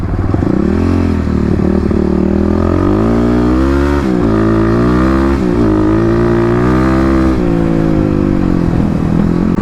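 A Kawasaki KLX250 dirt bike rides hard over gravel, its single-cylinder engine droning loud and close with rising and falling revs and a rattly, clattering edge as the throttle is worked.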